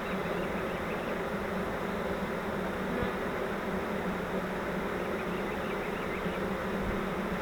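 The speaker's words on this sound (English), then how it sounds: "it's a good sign that all these bees are up here fanning" A captured swarm of honeybees fans their wings at the top of a trap, a dense, steady, close buzzing hum that continues unbroken throughout.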